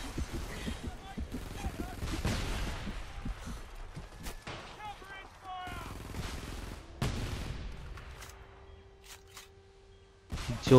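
Sniper rifle and other gunfire in the PC shooter game Frontlines: Fuel of War, sharp separate shots cracking out across a busy battle mix, with someone talking over much of it.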